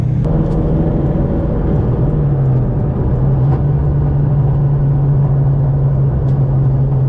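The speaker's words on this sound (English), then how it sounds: "I'm gonna get this car to operating temperatures, and we're gonna do some little bit more aggressive shifting right now" A 2003-2004 car with a transmission crossmember mount, engine droning steadily and loudly from inside the cabin with a constant low hum and rumble, no distinct rev swells, under no talk.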